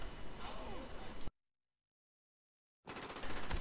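SPAS-12 shotgun blasts in the game Modern Warfare 2, heavy booming gunfire that cuts off abruptly into silence, then returns just as loud.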